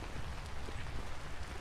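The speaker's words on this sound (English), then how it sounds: "It's raining" Steady rain in the Vintage Story video game, a dense even hiss of falling drops with no pauses, heard alone and fairly soft.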